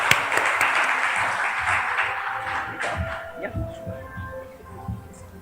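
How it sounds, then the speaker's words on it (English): Audience applause for a speaker being welcomed to the stage at a conservation awards event, a dense wash of clapping that gradually thins out toward the end, with some voices mixed in. "Ladies and gentlemen, please give a warm round of applause to Ramon R."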